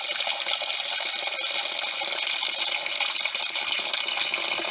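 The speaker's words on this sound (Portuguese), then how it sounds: "você coloca água, uma boa quantia" Water pours steadily into a container, a continuous bright splashing hiss that stays close and even for several seconds with no speech.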